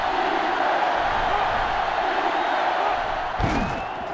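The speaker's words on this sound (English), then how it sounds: "this crowd is going absolutely insane" Stadium crowd in the NCAA Football 2005 video game, Florida vs. Florida State, roaring steadily as a continuous wash of cheering that holds loud throughout, with a brief louder burst near the end.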